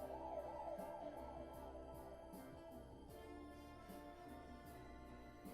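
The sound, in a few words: ambulance siren in a film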